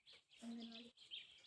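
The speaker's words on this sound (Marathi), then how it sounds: "आवाज येत आहे ना तुम्हाला पक्ष्यांचा?" Birds chirp and tweet faintly in the open grounds of a village school set below a hill, with brief high calls that come and go, and a soft lower cooing tone in the middle.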